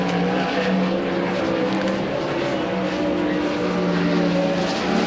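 Race car engines at the Port Royal dirt track during Tuscarora 50 time trials, a steady loud drone of engine roar that fills the whole stretch without pause.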